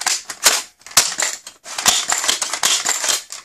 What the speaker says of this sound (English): Seem to have slam fire at first try.